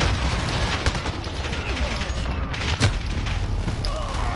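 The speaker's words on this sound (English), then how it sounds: "Allied precision airstrike incoming" Precision airstrike in the Modern Warfare video game, producing a dense, loud wall of rumbling explosions and rapid gunfire that keeps going throughout, with a few sharper booms standing out.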